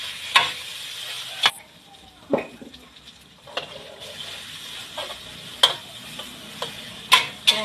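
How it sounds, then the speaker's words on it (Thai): Pork and onion stir-fried in a hot pan give a steady close sizzle, broken by sharp clacks and scrapes of the utensil against the pan at irregular moments. "ผัดใส่หอมหอมใหญ่ด้วยเพื่อนๆนะคะ ใส่หมูก่อนนะคะเพื่อนๆ"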